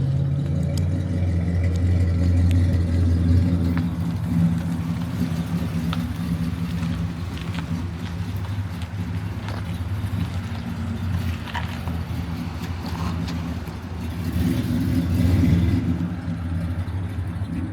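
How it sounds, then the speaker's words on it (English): An Oldsmobile V8 idles steadily in a 1977 Cutlass, a deep continuous rumble heard up close with a slight swell near the end and no talk over it. "Boy, that thing sounds so good. And that's an Oldsmobile motor."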